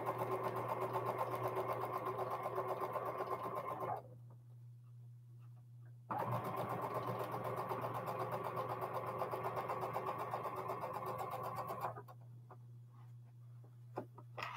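A home sewing machine runs steadily while chain piecing quilt blocks, stitching in two long bursts with short pauses between them and a faint snip or click near the end; no one talks.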